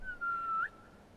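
A single sustained whistle in Skyrim, rising sharply at its end, sounds clearly but not loudly against a quiet backdrop to summon the player's horse in a freezing outdoor area.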